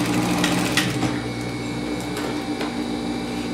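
A sewing machine stitches closed the opening of a double-faced coat, giving a steady close mechanical whirring hum with a few faint clicks, no talk.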